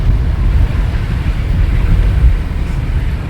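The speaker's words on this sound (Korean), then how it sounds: "이제 바람도 꽤 붑니다" Strong wind blows on Ulleungdo island during the rainy season, a continuous low rumbling buffet with a broad hiss that holds steady throughout and has no voices over it.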